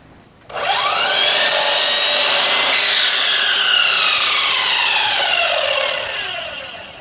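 A Chicago Electric 12-inch miter saw spins up sharply and slices through wood. A loud, close whining cut holds for about five seconds, then the motor winds down, with no one speaking.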